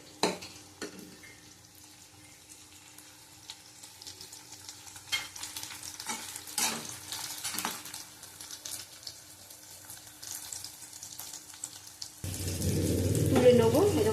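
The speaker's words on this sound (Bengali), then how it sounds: "দেখো, মোটামুটি ভাজা হয়ে গেছে।" Shrimp fritters frying in a pan give a faint, steady sizzle with a few louder stirring clatters. The frying swells to a fuller, louder hiss over the last couple of seconds.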